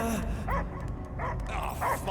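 Cosmo the dog in the video game Marvel's Guardians of the Galaxy gives a few short barks and yips, in three bursts spread across a couple of seconds over a steady game backdrop.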